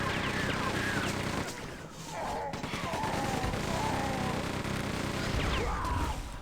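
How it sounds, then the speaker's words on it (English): Double-barreled shotgun blasts and dense gunfire in Quake II Remastered, a loud continuous barrage of game weapon fire with clanks and effects throughout, with someone talking over it. "Okay, shotgun, shotgun, shotgun, double barreled."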